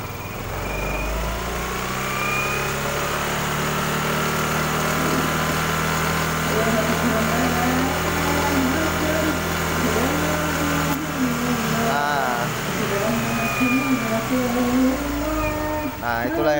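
A fuel-injected Yamaha Mio M3 scooter engine runs with a steady, buzzing hum throughout, while someone talks over it up close.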